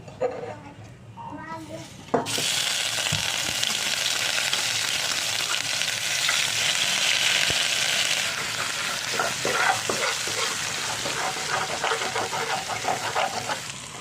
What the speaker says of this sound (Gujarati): હવે આપણે આમાં નાખી દઈશું આદુ લસણની પેસ્ટ, જે ખાંડેલી રાખી છે ને એ